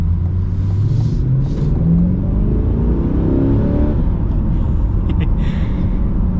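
A Chevrolet Corvette's 6.2-liter V8 rumbles loudly from inside the cabin, its deep engine note rising as it accelerates in steady climbs, with a few brief sounds overhead.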